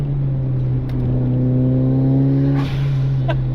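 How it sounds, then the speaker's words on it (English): A Mitsubishi Evo accelerates hard, its engine note climbing steadily with a whirring turbo rising over the drone, heard from inside the car, then a brief shift break and the pull resumes. "And that turbo noise just encourages you"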